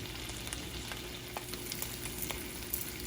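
Bacon crackles and sizzles steadily in a hot pan, a dense bed of fine pops with a few sharper snaps, close and continuous with no voices.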